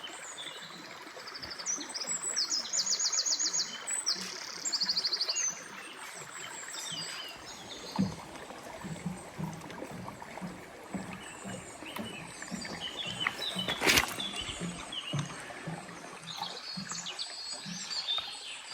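A stream flows beside a country path on a walking route toward the Larzac in France, a steady broadband rush with birds chirping over it and a few brief louder splashes or knocks.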